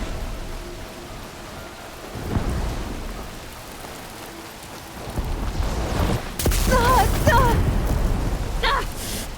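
Thunder rumbles and rain pours during a storm in Horizon Forbidden West, with deep booms rolling in and a voice speaking briefly over the downpour.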